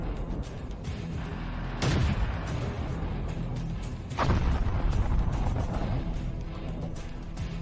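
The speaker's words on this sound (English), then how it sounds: "From various angles, we see it land several hits on an enemy APC." A Leopard tank fires on an enemy APC in combat footage: two heavy booming blasts a couple of seconds apart, each ringing out over constant low rumbling background noise.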